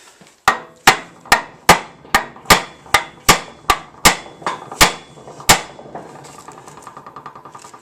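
Sharp, ringing hammer blows struck on metal axle parts of an old utility trailer, about a dozen evenly spaced hits that fade into lighter taps, close and loud, with no talking.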